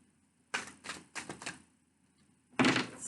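Tarot cards being shuffled by hand at a table, several bursts of quick riffling and slapping with pauses between, close and fairly soft.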